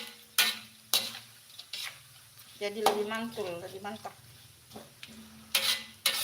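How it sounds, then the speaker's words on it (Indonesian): A spatula stirs and scrapes a pan where food is stir-fried in oil left from frying salted fish, with sharp metallic clinks over a soft sizzle as someone talks. "Dan minyaknya ini langsung yang dipakai menumis"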